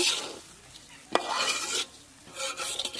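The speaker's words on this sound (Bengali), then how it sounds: "এটা হচ্ছে পোলাও রান্না করতে ভালোভাবে কষাই নেব আজকে বড় কড়াই রান্না করতেছি" Polao is stirred and sautéed in a large wok, giving bursts of scraping, rasping stirs with a light sizzle, one sharp clank partway through, pausing between strokes.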